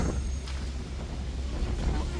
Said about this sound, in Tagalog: Lumakas na yung hangin mga par.